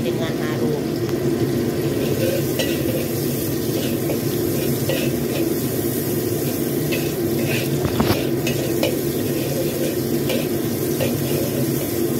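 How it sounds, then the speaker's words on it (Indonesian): Garlic and shallots sauté in oil in a pan for an everyday home-cooked Indonesian dish, giving a steady continuous sizzle with occasional scrapes and stirring clatter throughout. "Kita tumis bawang putih, bawang merah yang sudah kita tumis hingga sampai dengan harum."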